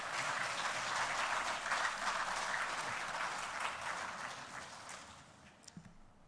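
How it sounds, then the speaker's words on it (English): Sustained audience applause at a live-streamed foundation event, a dense wash of clapping from a crowd that holds steady for several seconds, then thins and fades out with a few scattered last claps near the end. "Let's give him a round of applause."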